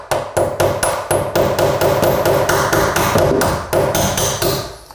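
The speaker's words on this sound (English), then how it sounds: "you can just use the claw and the hammer. Pop it out and you're good to go" A hammer striking a door hinge pin to pop it out during flooring work, about a dozen sharp, evenly spaced metallic blows in quick succession, loud and close with no talking.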